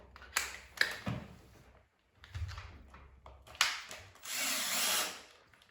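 A power drill drives a screw through a Lego block into a plastic wall plug, heard as several short whirring bursts with pauses between them, ending in one longer, steady run.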